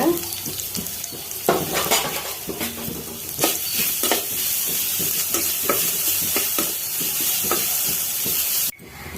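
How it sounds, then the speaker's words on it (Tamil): Grated coconut being sautéed with green chilli and curry leaves in a pan, with steady close sizzling and repeated scraping stirs of a spoon against the pan, running continuously until an abrupt stop near the end. "தேங்காய் திருவல் சேர்த்துக்கிறேன். லைட்டாக வதக்கிடுங்க."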